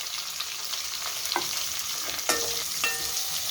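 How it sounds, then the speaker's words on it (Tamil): Mustard seeds, fenugreek, green chilies, curry leaves and shallots sauté in hot oil for a fish curry, a steady sizzle broken by several sharp clinks and scrapes of a spoon stirring the pan. "கடுகு, வெந்தயம், பச்சை மிளகா, கருவேப்பிலை, சின்ன வெங்காயம் நல்லா வதங்கணும்"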